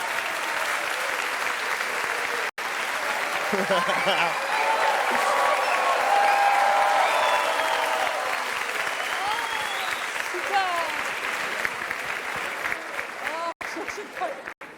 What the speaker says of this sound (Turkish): Önce alkışlarla koromuzu bir görelim şöyle.